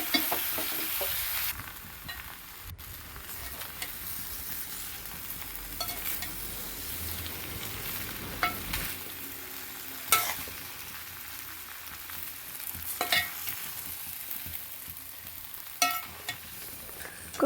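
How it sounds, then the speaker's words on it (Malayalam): Cooked tapioca is stirred into hot oil and chilli powder in a pan, giving a soft, steady sizzle with intermittent scrapes and knocks of the spoon. The sound is fairly quiet and there is no talking. "നമുക്ക് കപ്പ ഇട്ട് കൊടുക്കാം ഇളക്കി യോജിപ്പിച്ചെടുക്കാം"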